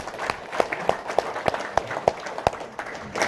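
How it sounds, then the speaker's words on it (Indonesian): Sparse, evenly spaced claps from an audience at a training session in Solo, a dozen or so sharp hand claps at a steady rhythm, moderately faint, with no one speaking. "Tepuk tangan buat PT BES."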